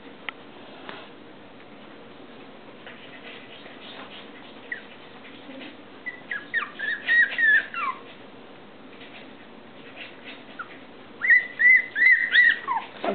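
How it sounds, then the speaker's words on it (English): Puppies tussle and bite one another, with scattered soft whimpers and then bursts of high, wavering cries in two clusters, fairly close and over a quiet background. "that's Twizzler biting Tootsie, making her cry"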